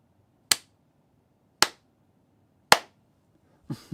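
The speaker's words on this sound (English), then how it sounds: "Clap your hands for an audio test." Three sharp, evenly spaced hand claps ring out alone in a quiet room for an audio test, followed by a softer fourth sound at the end.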